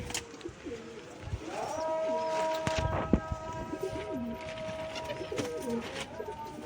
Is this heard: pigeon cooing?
yes